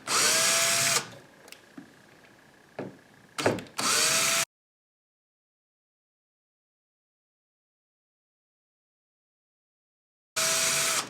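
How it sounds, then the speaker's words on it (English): A power drill removing door hinge screws whirs in short, loud bursts, stopping and starting, with a long silent gap before a final burst. "we're going to take the drill and we're going to remove the screws"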